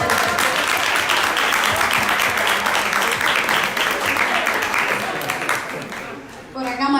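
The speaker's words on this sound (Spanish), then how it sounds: "Un aplauso." Sustained applause from an audience at a Women's Day commemorative event in a lawyers' association setting, dense and steady for most of the stretch before tapering near the end, with a voice starting to speak as it fades.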